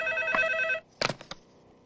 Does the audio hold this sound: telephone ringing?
yes